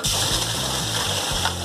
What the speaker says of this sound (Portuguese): vocês vão ver a água sair no chão